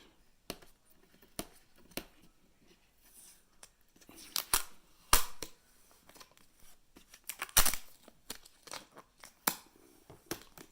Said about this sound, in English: Remove the sticker.